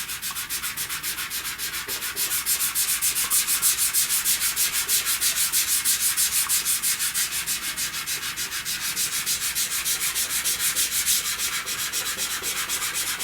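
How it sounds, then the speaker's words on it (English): Pastel is smudged across paper in a flower drawing, giving a close, steady rhythmic rubbing hiss of quick back-and-forth strokes with no voices. "let's smudge some more."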